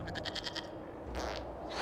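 A goat bleats in a quick run of wavering calls within the video game Dragon Age: Inquisition, fairly close over steady background ambience, followed by a short second call.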